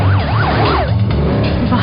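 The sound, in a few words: ambulance siren arriving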